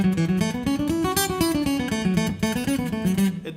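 An acoustic guitar is picked in a steady stream of notes that sound choppy and uneven rather than smooth and flowing, loud and close with no voices.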